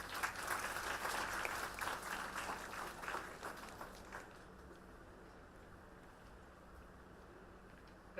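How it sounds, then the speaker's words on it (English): An audience applauds to welcome the dean of MSSW at a 2025 MSW batch inaugural ceremony, a dense round of clapping that is loud for about four seconds and then fades to a quieter, scattered tail. "Please join me in welcoming her with a warm round of applause."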